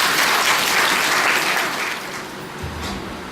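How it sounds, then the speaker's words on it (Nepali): A church congregation claps to welcome a preacher at a worship service: sustained, dense applause from many hands close by, steady and loud, easing slightly toward the end, with no speech over it. "उहाँलाई ताली बजाएर स्वागत गरौँ।"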